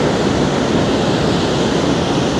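Dense, continuous roar of foaming water rushing through Bhavanisagar Dam at night, loud and steady without any break.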